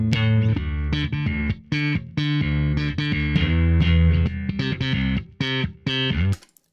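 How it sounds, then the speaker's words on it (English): A processed bass line with sampled notes plays steady, punchy notes in a continuous groove, slightly distorted and full, with short gaps between phrases near the end. "So this is the way it sounds with the sampled part."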